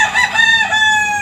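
A rooster crows once among farm chickens, a loud, close, drawn-out call with a clear tonal quality.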